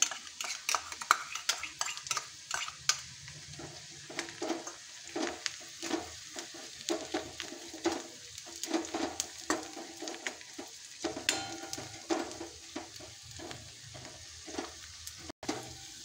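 A spoon stirs ginger-garlic paste and onions around a frying pan on low heat, with repeated scraping clinks and a soft sizzle underneath, close and fairly quiet.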